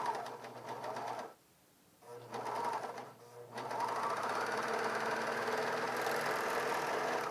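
A Bernina 700D serger stitches around a fabric corner with a close, rapid mechanical whir. It pauses briefly twice, then runs steadily at a slightly faster pace, with no talking.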